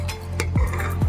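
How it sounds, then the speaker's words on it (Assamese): A pressure cooker holding goat meat has its lid opened, giving a few close, loud metallic clanks and scrapes in quick succession with no talking. "এয়া কুকাৰৰ পৰা এতিয়া ঢাকনখন খুলি দিছোঁ"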